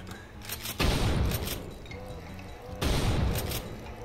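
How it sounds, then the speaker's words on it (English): Two loud shotgun blasts in the Brutal Doom game, each a sharp boom with a long decaying roar, about two seconds apart, with game sounds between. "look how much more realistic this shotgun is than so many games"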